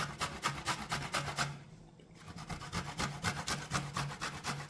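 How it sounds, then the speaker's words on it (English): Ginger grated by hand against a grater, a steady rhythmic rasping of repeated strokes with a short pause midway, close and fairly loud, no talking. "I'm grating a little piece of ginger"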